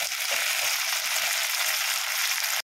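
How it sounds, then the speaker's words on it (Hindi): Onion and tomato paste fry in hot oil in a kadai while kadai chicken is being made, giving a steady bright sizzling hiss up close that cuts off abruptly. "1 टमाटर पीस लिए थे, पेस्ट डाल देते हैं और इसे भी अच्छी तरह से इसके साथ भून लेंगे"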